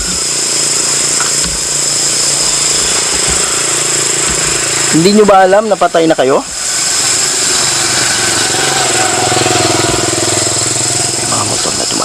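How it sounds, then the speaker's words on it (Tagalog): Motorcycle engines drone in a constant mid-level rumble, with bikes passing close by and never quite fading. A voice speaks briefly over the noise partway through. "Mga motor na dumadaan."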